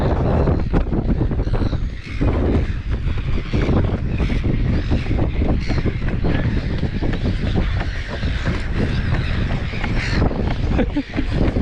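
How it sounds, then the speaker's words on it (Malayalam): Strong, cold wind buffets the microphone in a steady, loud roar throughout, with faint scattered sounds underneath, at an outdoor penguin-viewing spot near Melbourne, Australia. "തണുപ്പാണ് കാറ്റ് ഭയങ്കര കാറ്റും തണുപ്പാണ്"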